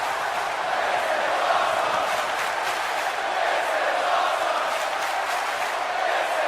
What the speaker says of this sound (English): the crowd loves him